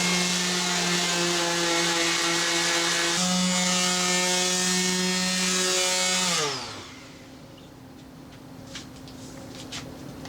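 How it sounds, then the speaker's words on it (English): An electric sander works the edges of Nidacore honeycomb panels, holding a steady, loud mechanical whine for about six seconds before it winds down and stops, leaving a quiet room with faint handling noises. "So basically sand, inspect, see if there's some place that needs a little bit more."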